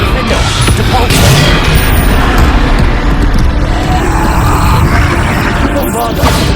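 Repeated Bombarda spell explosions from the Hogwarts Legacy video game, a dense, loud barrage of booming blasts and rumbling impacts that runs throughout, with a voice calling out over the din.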